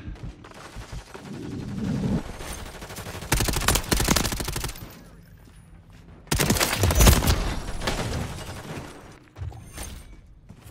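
Gunfire in the Warzone video game, with two long bursts of loud, rapid automatic fire separated by a quieter stretch of distant shots and mechanical noise.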